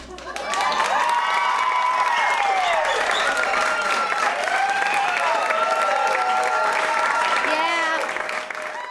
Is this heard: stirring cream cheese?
no